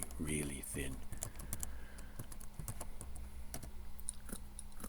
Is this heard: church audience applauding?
no